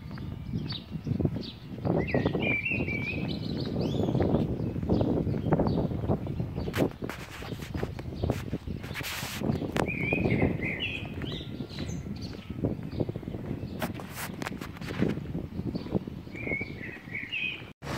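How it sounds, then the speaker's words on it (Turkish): Small birds chirp and sing in short bright bursts over a steady outdoor bed of street noise and rumble in the historic old streets of Muğla, with scattered clicks and thumps throughout. "Kuşların seslerini duyuyorsunuz."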